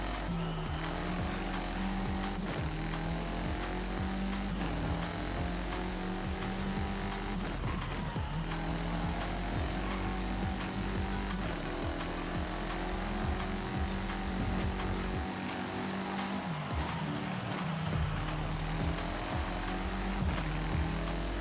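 A car drives hard through corners in the racing video game Forza Horizon 5, with a continuous engine drone rising and falling in pitch through gear changes and faint tyre squeal.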